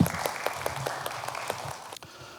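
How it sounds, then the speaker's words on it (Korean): An audience at an academic conference presentation claps briefly, a thin patter of scattered hand claps that stops abruptly after about two seconds. "자, 박수로 환영해 주시기 바랍니다."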